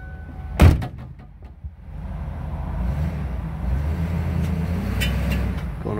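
A 1995 Jayco RV: a sharp door-like slam near the start, then the engine rumble rises and settles into a steady drone as it is driven.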